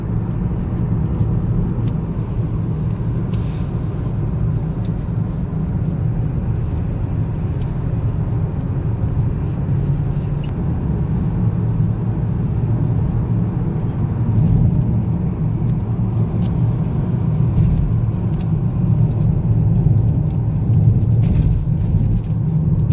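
Continuous low rumble of road traffic in dense fog, vehicles passing steadily at a distance with no distinct individual pass-bys, and no voices.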